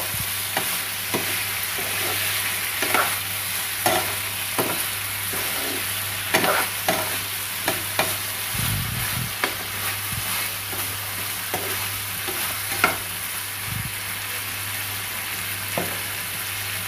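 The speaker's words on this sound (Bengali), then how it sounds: "খুব ভালো করে মিক্স করে নেব।" Lemon garlic chicken being stirred and fried in a pan, a steady low sizzle broken by a long run of irregular spoon scrapes and clinks against the pan, moderately close.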